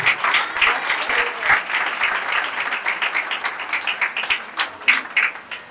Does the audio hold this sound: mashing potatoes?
no